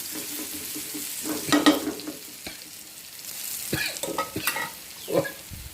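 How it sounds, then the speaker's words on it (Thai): Dried chilies stir-fried in a pan over medium heat until golden, a steady close sizzle with scraping spatula strokes and intermittent louder stirring clatters, no talk. "ขัวให้มันเหลืองครับนี่ใส่พริกแข็งครับ"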